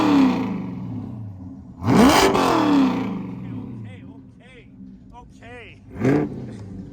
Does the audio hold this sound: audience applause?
no